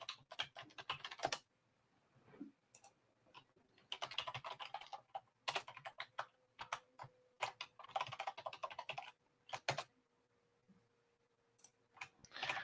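Fingers tap a computer keyboard in quick, uneven bursts of close clicks with short pauses between them, as a password is typed in a quiet room with no voices.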